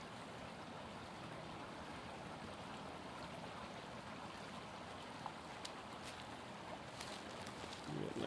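Steady broadband rush of a stream flowing over rocks close at hand, continuous and even throughout with no talking.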